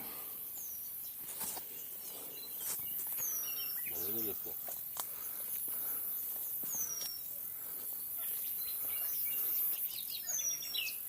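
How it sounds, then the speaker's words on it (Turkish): Birds chirp and call intermittently in the open outdoors, with short bright whistles scattered over a steady hiss of insects and faint background rustling. "Evet doğada kuş sesleriyle beraber duyuyorsunuz."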